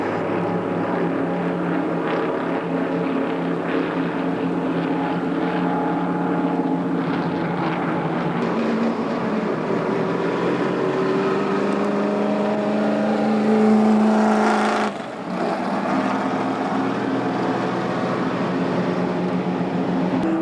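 A NASCAR truck engine drones steadily as it drives laps around Atlanta Motor Speedway, heard from onboard with a constant loud roar whose pitch slowly rises and shifts as speed builds, with a brief dip near the end.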